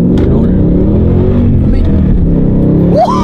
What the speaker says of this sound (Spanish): se me pone la piel de gallina al escuchar el coche